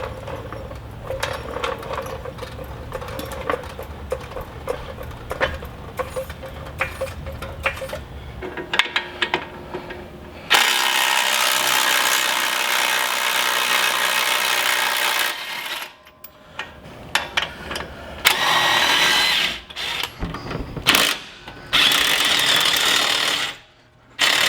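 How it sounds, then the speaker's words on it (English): A hydraulic jack is worked under a Jeep axle during a 2.5-inch lift kit install, giving ratcheting, clicking mechanical strokes with bursts of hissing noise and pauses, close and fairly loud. "So we'll do that using our hydraulic jack."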